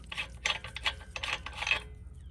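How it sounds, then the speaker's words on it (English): Rapid ratchet clicking in several short bursts, close and fairly loud, while lug nuts come off the front wheel of a 2019-or-later Ram 1500 pickup during a brake job; there is no talk. "first thing first, we're gonna take the wheel off"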